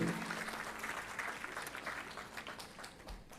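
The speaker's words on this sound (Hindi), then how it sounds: "वाह, तालियां बजाइए जरा जोरदार।" Applause from an audience at a student parliament event in Ahmedabad, steady but quiet and distant, fading slightly over a few seconds.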